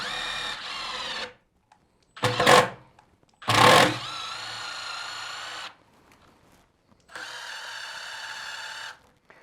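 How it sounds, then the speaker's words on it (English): A power drill whines in several bursts, its pitch rising and falling, with two harsh grinding spells as a heavy-duty self-drilling screw bites into 5mm steel, separated by brief pauses. "Next I'll show you a heavy duty drill point, and this is for the thicker 5mm steel"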